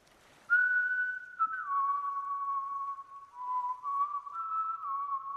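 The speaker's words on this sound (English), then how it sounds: "once you hear the whistling sound" A person whistles a sustained, wavering tune, gliding between a few held notes, clear and close with no other sounds.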